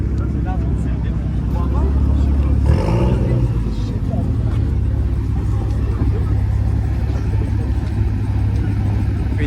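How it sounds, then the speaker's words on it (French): A Ferrari 488 Spider supercar at a supercar gathering gives a deep, low engine rumble that shifts in pitch partway through, with people talking over it. "Là on a une belle 488 Spider."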